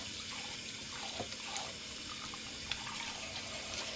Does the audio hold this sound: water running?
yes